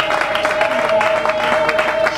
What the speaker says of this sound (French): Est-ce qu'on peut encore ajouter des acclamations?